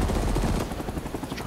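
Gunfire from a helicopter strafing run in the video game Rising Storm 2 rattles as a dense, continuous burst mixed with rotor and engine rumble, loud and unbroken throughout.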